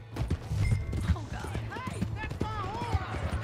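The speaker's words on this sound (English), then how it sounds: "Hey, that's my horse!" Horse hooves clopping at a gallop in Red Dead Redemption 2, fading as the animal is ridden off, under loud overlapping shouting and game music.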